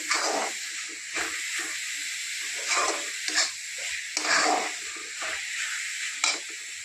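A thick dried-fish curry mixture sizzles and hisses in a pan, with repeated swells of steam as it is stirred at an irregular rhythm, close and fairly loud.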